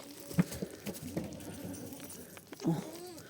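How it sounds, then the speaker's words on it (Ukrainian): Goats bleat a few times, a sharp cry early on and a louder wavering one near the end, over faint background noise. "А кози кричать всі дружно"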